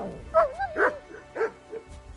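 A dog in Kingdom Come 2 barks and yips in a short burst of several close, loud, uneven barks with whimpering tones, alone without talk.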